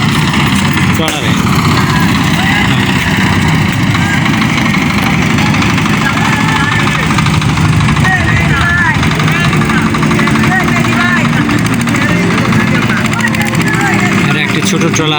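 Small dinghy-like trawler boat engine running steadily at close range on the water, a constant loud droning hum with voices talking over it.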